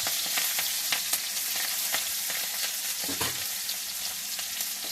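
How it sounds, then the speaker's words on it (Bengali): Chopped onion and cinnamon go into hot oil in a pan, a loud, steady sizzle of frying with scattered crackles and a few stirring scrapes, and no talking. "দিচ্ছি এতে পেঁয়াজ কুচি"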